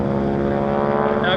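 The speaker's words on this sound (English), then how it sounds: "That is the tips of the propeller going supersonic as he comes up over the top" Propeller aircraft flying an aerobatic airshow routine, its engine droning loud and steady with a rasping buzz as the prop tips go supersonic coming over the top; a commentator talks throughout.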